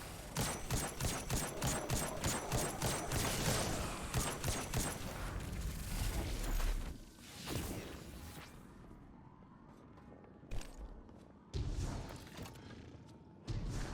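A grenade goes off amid heavy gunfire in Destiny 2 during a solo Grandmaster Nightfall: dense rapid shots for several seconds, then a deep thud, quieter sparse blasts, and a few sharp bangs near the end.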